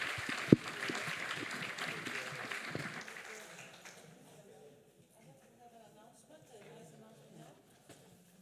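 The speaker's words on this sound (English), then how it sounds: "A big applause for our panel." Applause from a conference audience greets an energy poverty panel, a dense patter that fades out after about four seconds and leaves a quiet, murmuring room.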